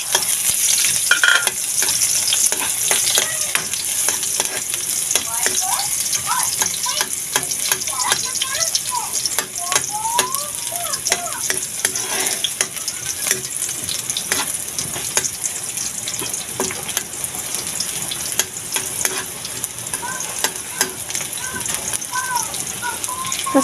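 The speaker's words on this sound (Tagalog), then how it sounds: "nagpainit na ako ng mantika. Tapos, ayan, maglalagay na ako ng, ayan, bawang and sibuyas." Garlic and onion frying in hot cooking oil, a steady bright sizzle with stirring clatter and scraping, close and continuous, with a voice talking now and then.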